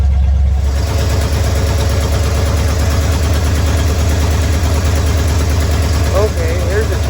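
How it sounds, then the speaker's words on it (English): A carbureted car engine with a Holley 4-barrel carburetor idles high and steady, a loud, close, even rumble with a fast pulsing beat that runs the whole time, with a brief faint squeal near the end. "That idle is very high."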